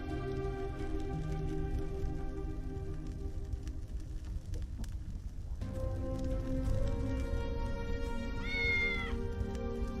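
A cat meows once, clearly and briefly, over a steady bed of background music, with a soft electronic ambience throughout, in the video game Tales of the Neon Sea.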